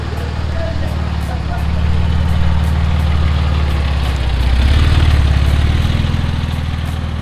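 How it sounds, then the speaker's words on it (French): Sports car engines, including Porsches, rumble and idle nearby at a classic car event, with low, throaty revving that swells a couple of times, a broad roar of running motors. "qu'est-ce que serait un événement automobile sans entendre les moteurs vrombir?"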